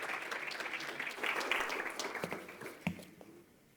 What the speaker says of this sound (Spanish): les damos un caluroso aplauso a nuestros tres invitados